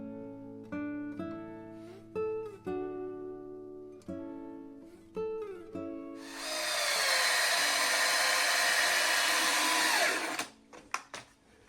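A Ryobi power drill bores into wood with a toothed bit, a loud steady whirring grind lasting about four seconds that stops abruptly, after earlier lighter tonal sounds and a few clicks.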